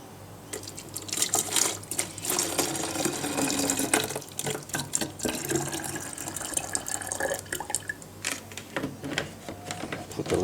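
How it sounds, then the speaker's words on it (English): Cooled borax pest-control mixture poured into a spray container, a close, uneven liquid splashing and trickling with irregular drips and small plastic knocks, and a faint voice now and then. "you can pour it into your container."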